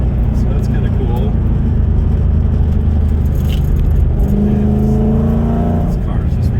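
Live-axle Ford car with a 4.6 3V engine and an electric power steering conversion, heard from inside while driving: a loud, steady engine and road drone with a rising rev toward the end, and someone talking over it.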